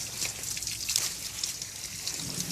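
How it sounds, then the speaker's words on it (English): Running water rinses a heritage chicken carcass during evisceration, a steady close hissing trickle and splash that continues throughout with no talking. "I'm going to rinse just a little"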